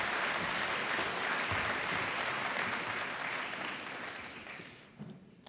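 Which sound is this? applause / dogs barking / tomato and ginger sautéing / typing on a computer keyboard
applause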